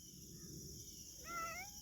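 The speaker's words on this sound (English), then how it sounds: "Meow, what's the matter, Kitty?" A single short cat meow rises and wavers near the end, faint against a steady background hiss.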